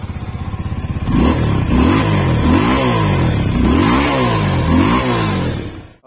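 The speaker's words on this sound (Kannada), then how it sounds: "ಈ ಗಾಡಿ ಎಕ್ಸಾಸ್ಟ್ ನೋಟ್ ಹೇಗಿದೆ ಅಂತ ನೋಡೋಣ." Suzuki V-Strom 250 motorcycle engine idling close by, then revved up repeatedly, about five rising-and-falling throttle blips from the exhaust before cutting off.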